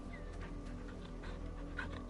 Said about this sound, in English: I need to pet my therapy dog.